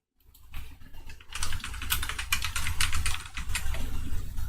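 Rapid typing on a computer keyboard fills the clip, a close, steady clatter of key presses that starts after a brief silence and continues without talk.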